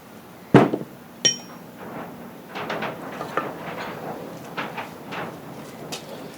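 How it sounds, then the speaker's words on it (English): A few metallic taps from a big hammer ring out early, knocking out a Honda Rancher 420 crankshaft, then softer knocking and clinking continue under steady background noise. "Gonna lightly tap it with a big hammer."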